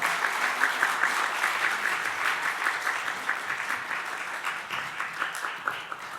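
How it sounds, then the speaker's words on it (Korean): Sustained applause from a sizable church congregation, steady clapping that continues throughout and slowly tapers slightly toward the end. "큰 박수로 환영해 주시기 바랍니다"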